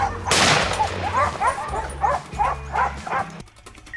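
A pack of hunting dogs chasing wild boars gives off a steady run of close, loud barks and yips in a rhythmic series, over a low rumbling background.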